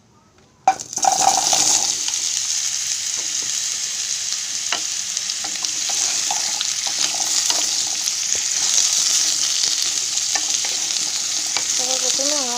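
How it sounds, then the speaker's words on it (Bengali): Potato and pumpkin pieces hit hot oil tempered with dried chilli, five-spice and asafoetida, breaking into a loud, steady sizzle after a sharp start, with occasional stirring clinks throughout. "ফোড়নে দেব আলু আর কুমড়োটা দিয়ে দেবো"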